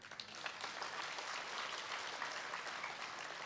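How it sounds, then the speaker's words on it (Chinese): Audience clapping inside the Ko Shan Theatre during a 2007 Cantonese opera concert, a steady, even patter of many hands at a moderate, slightly distant level, with no talk. "那位朋友鼓掌好嗎"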